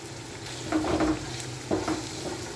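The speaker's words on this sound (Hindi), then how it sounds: "तो इसको हम इसको फ्राई करेंगे।" Carrots frying in a pan for Singaporean rice, a steady sizzle broken by two short bursts of stirring and scraping.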